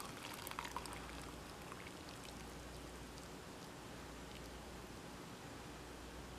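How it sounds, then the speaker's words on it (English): Parsley tea is strained and poured into a mug, giving a steady, soft splashing trickle that runs evenly throughout at a fairly quiet level, with no voices. "we're going to strain into our mug"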